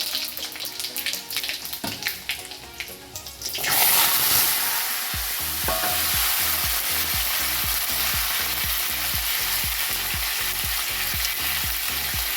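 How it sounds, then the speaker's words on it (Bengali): Panch phoron five-spice tempering drops into hot oil in a wok: after some clinks, a sudden loud hissing sizzle erupts and settles into a steady fry with a rhythmic scraping stir, near and without speech. "তেল গরম হয়ে গেছে, এই দিলাম 5 ফোড়ন"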